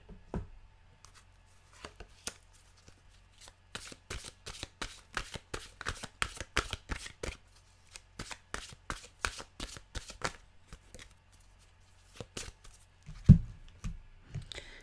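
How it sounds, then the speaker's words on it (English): Oracle cards shuffled by hand before a card is drawn: quiet, close riffles and snapping flicks coming in a quick burst-driven rhythm with short pauses, ending in a few soft taps. "Okay, let's get a mantra card."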